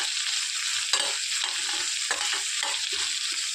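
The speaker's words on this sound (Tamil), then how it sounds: "கூட இந்த கருவேப்பிலை போட்டுக்கலாம். இதையும் சேர்த்து நம்ம வதக்கிக்கலாம்." Curry leaves are sautéed in a pan, giving a steady hiss of sizzling with several scraping stirs and a couple of sharp spattering bursts, close and clear with no talking.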